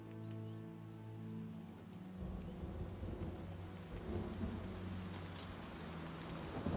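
Rain and rolling thunder fill the weather of the video game The Elder Scrolls IV: Oblivion Remastered, with a steady hiss of falling rain and deep rumbles of thunder that swell louder toward the end.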